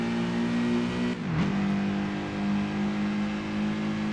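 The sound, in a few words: boxer engine car revving in video game Tokyo Xtreme Racer 2025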